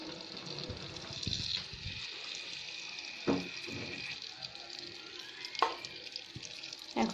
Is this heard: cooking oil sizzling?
yes